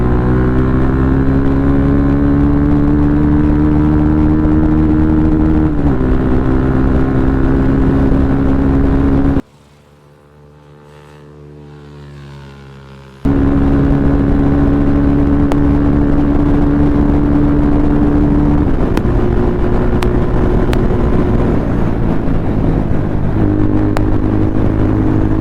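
A modified Yamaha FZ25 motorcycle with an Akrapovič exhaust pulls hard through the gears, its loud, bassy engine note rising steadily with brief dips at each shift, then a short lull before it roars on again at high revs.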